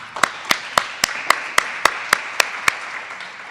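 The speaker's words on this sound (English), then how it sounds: "please stand so that we can give you a round of applause." Audience clapping at a grants announcement press conference: about a dozen crisp, evenly spaced claps in a steady rhythm, fairly close and moderately loud, with no voices over them.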